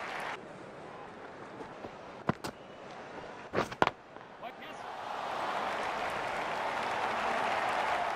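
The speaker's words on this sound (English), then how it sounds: "The crowd applaud." A stadium crowd in a cricket video game breaks into applause, first a few sharp claps, then a broad, steady roar of clapping that swells and holds.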